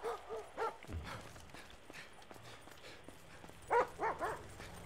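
K9 police dog barking in GTA V during a state trooper chase, a few sharp barks near the start and a tight cluster of louder barks toward the end over low game noise.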